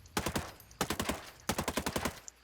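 Tavor bullpup assault rifle firing in the Ghost Recon Breakpoint video game: three quick bursts of rapid automatic shots, each burst about five or six rounds, crisp and close with short gaps between.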